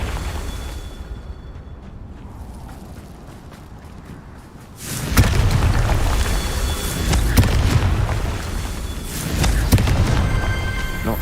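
Confringo blasting-spell explosions from the Hogwarts Legacy video game: a quiet stretch, then a heavy booming blast at about five seconds followed by rumbling, crackling detonations and whooshes that swell again later, loud and close.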